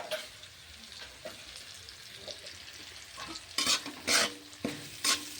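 Spring onion greens being stir-fried with potatoes and carrots for chire pulao, a soft steady sizzle with scraping stirs that grow louder and sharper in the final seconds.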